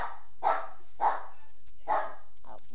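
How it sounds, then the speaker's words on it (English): Four or five barks from a dog in the room come at a steady pace, each one fairly loud and close, over a soft background hum. "Sorry guys, that's my dog."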